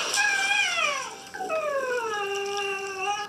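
A dog vocalizing close by in a long whining howl that rises and falls in pitch, breaking briefly midway before a second drawn-out, sliding whimper-howl.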